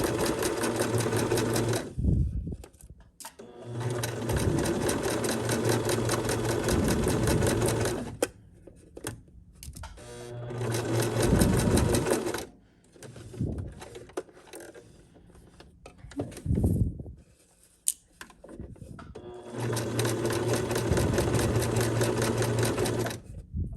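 Home sewing machine stitching around a craft maze project, running in steady bursts with pauses where the needle is turned by hand wheel at corners, close and loud with no talk.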